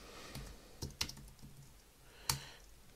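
Typing on a computer keyboard, a few sparse, quiet key clicks with one sharper tap near the end, close and faint against a low background.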